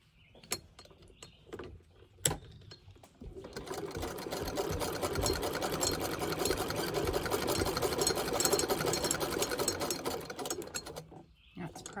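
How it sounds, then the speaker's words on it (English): A sewing machine with a 1/4-inch foot runs steadily for about eight seconds, stitching down the edge of vintage feedsack fabric for a coin purse, after a few light clicks and handling sounds, loud and close. "I'm going to just stitch down the edge here."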